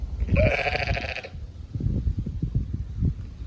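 A sheep gives one clear, close bleat near the start, followed by quieter low rustling and shuffling sounds.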